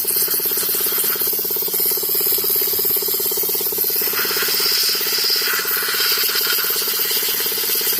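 A loud, continuous hiss of pressurized steam spraying from a steam cleaner onto a chainsaw over a steady mechanical hum, with occasional sharper squealing bursts.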